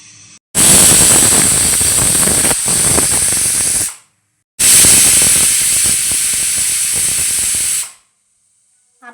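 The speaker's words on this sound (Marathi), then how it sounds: "शिट्टी लावून घेऊया आणि ह्याला स्लो गॅसवरती 2 ते 3 शिट्ट्या देऊया" A pressure cooker cooking dal with spinach on low gas lets off two long, loud hissing whistle blasts of steam, each lasting several seconds, separated by a short silence.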